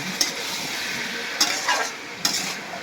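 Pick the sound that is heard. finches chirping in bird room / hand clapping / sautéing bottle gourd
sautéing bottle gourd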